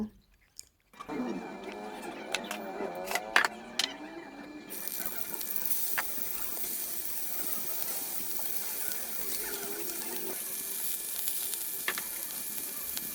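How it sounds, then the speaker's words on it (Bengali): Vegetables frying in hot oil for a hilsa fish curry give a steady, close sizzle. It starts after a few clatters and brief sounds, then keeps up a constant crackling hiss until the end. "এবার এগুলোকে ভালোভাবে ভেজে নিব।"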